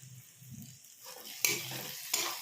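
Spices and tomatoes frying in a pan for an aloo soyabean curry, a soft steady sizzle broken by a couple of sharp scraping stirs, close and fairly quiet.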